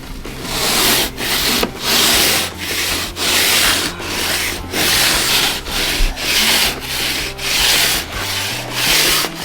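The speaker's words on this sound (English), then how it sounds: "This is the bit that you need the rasp for." A rasp files the edge of a plasterboard sheet in loud, close, rhythmic strokes, about a dozen steady push-pull scrapes with short gaps between them and no talking.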